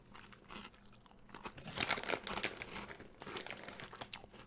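Someone chews small, light, ring-shaped onion-flavoured German snacks with soft, irregular crunches, close to the mic, along with crinkling packaging and no talking.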